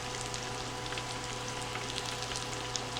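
Cheesesteak egg rolls fry in hot oil with a steady, dense crackling sizzle, close and even throughout with no pauses.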